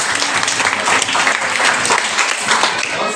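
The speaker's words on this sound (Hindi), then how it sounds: "एक बार उनके लिए ताली होगी।" A school audience at a teachers' appreciation event in a composite upper primary school claps loudly for the head teacher, a dense continuous burst of many hands close and filling the space without letup.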